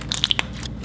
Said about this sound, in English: I wanna see if it can turn into like a nice crunchy slime